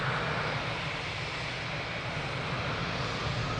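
An airliner takes off from runway 02 at Lisbon Airport, a loud, steady engine roar that fills the whole stretch without letting up.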